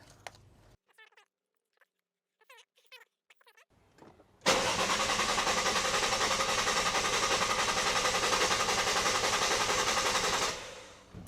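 A Lexus IS200 engine cranks over on the starter with its injectors unplugged to prime the oil system, a loud steady churning that runs several seconds and cuts off, after a short quiet stretch with brief talk.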